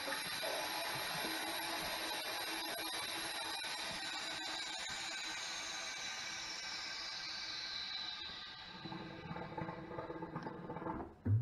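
A steady, broad hiss of air rushing through an opened valve after a Harvest Right vacuum is turned off while sealing Mylar bags, runs for several seconds, fading and turning uneven toward the end, with faint clicks and rattles.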